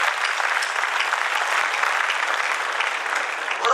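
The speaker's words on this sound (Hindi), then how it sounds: "ये सदन एक बार बहुत जोरदार तालियों से उनका स्वागत करें।" Steady, dense applause from a large audience at a Hindi poetry gathering, a kavi sammelan in Jind, fills the space evenly and loudly with no pauses throughout.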